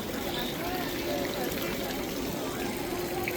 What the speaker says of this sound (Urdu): یہ آبشارز لگی ہوئی ہیں